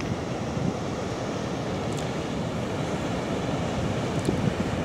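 Ocean surf at Brookings Harbor, Oregon, on a chilly morning: a continuous broad roar of breaking waves with wind buffeting the microphone, steady throughout.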